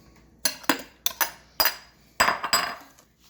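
Metal electric mixer beaters are pulled out and set down. Several sharp clinks and clanks come in uneven pairs close by, with no one talking.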